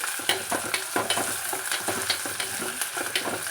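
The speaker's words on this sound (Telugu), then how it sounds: "ఇందులోనే ఒక రెండు రెమ్మల కరివేపాకు వేసుకొని వేయించుకోవాలి" Curry leaves fry with softened onions in a pan, crackling and sizzling under repeated stirring scrapes at a quick, uneven rhythm, close and fairly loud.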